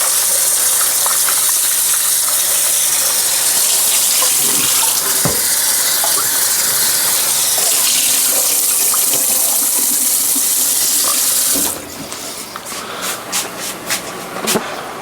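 Catfish is rinsed under a loud, steady stream of tap water that gushes continuously for about twelve seconds, then shuts off, leaving softer drips and handling sounds close by.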